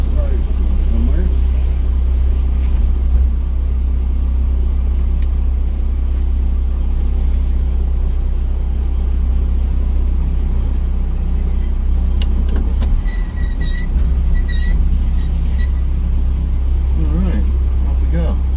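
A 1978 Datsun B210 engine runs steadily as the car is driven, a constant low drone and road rumble filling the clip from start to finish, with a brief dip and a few clicks midway.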